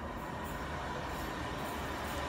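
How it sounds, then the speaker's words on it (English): A single-coach train passes at a distance in England, a low, steady rumble and rattle of wheels on track, faint and continuous. "A one coach train."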